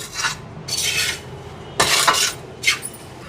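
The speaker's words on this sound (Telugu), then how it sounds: "ఇలా మనం అట్లోసి పెట్టుకుని ఇలా గోకుతూ నీట్గా కలపాలి." A spatula scrapes and stirs a thickening peda mixture in a pan, producing four rough, close rasping strokes separated by short pauses.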